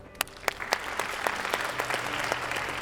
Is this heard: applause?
yes